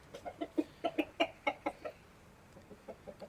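Chickens cluck in a quick series of short, soft clucks, fading briefly before a few more close by at a low volume.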